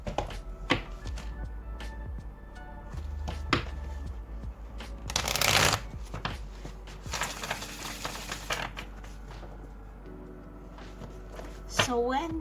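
Oracle cards are shuffled by hand in quick riffling bursts and soft taps, with a louder flurry midway, under light background noise.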